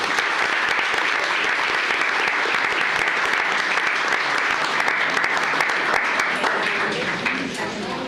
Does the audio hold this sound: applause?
yes